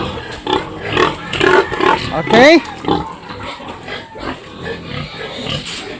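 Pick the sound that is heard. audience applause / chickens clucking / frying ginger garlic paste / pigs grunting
pigs grunting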